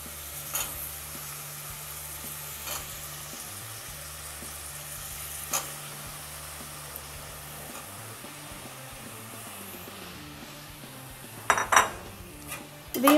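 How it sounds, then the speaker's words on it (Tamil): Chopped banana stem sautés with onions in butter, a low steady sizzle with occasional faint utensil taps, then a burst of louder spoon-and-pan clatter near the end. "வதங்கோட்டி இந்த கட் பண்ண வாழைத்தண்டை அதில் சேர்த்துடணும்."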